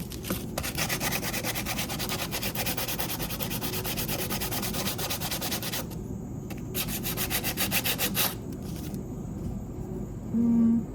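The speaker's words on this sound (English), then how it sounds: "If I can sand out the crack" Steady, close rasping of sandpaper rubbed back and forth over a wooden spoon to remove a crack, continuous and fairly loud, with a brief low tone near the end.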